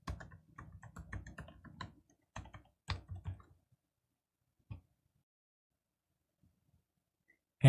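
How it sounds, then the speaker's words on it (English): Computer keyboard typing of an email address, in bursts of quick, close key clicks for a few seconds, then a pause and a few isolated taps before a final sharp knock; no talking. "I'll type in my email address"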